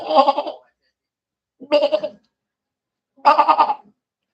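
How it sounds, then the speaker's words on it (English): Sheep bleating three times in loud, close, wavering calls separated by short pauses, heard alone without talk. "where's that sheep?"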